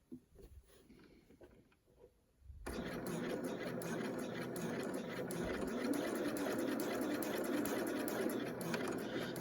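A sewing machine stitching a zip into fabric. Faint handling and a few soft knocks come first, then the motor starts and runs in a steady close rattling whir that continues to the end.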